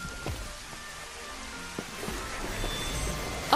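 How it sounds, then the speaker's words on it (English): Steady rainfall in the Final Fantasy XV Platinum Demo, a soft, even hiss of drops on surfaces with occasional louder splashes, faint and continuous with no talk. "The weather changed. It's raining!"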